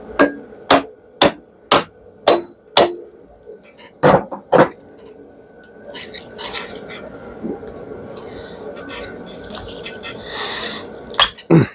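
Sharp metallic hammer blows break welds off metal, about a dozen evenly spaced strikes at first, then scraping and clanking, with a couple of final hits near the end.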